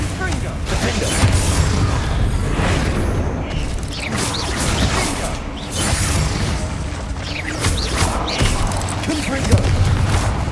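Repeated Confringo blasting spells booming in Hogwarts Legacy, a run of loud bursts and crashes spread across the clip over dense game noise, with voices present.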